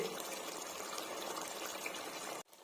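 Chicken simmering in a pot for basmati chicken biryani, a steady bubbling, watery hiss that runs close and even for most of the moment before cutting off abruptly near the end.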